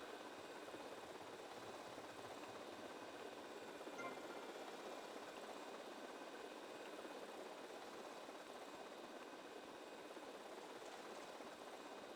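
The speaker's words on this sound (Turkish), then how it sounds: "Ya şu oyuncak helikopterle adam öldürüyoruz." A toy RC helicopter in GTA Vice City Definitive Edition whirs continuously with a steady, even motor drone that holds at the same moderate level throughout, with no other sounds.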